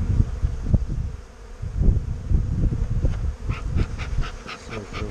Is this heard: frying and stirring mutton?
no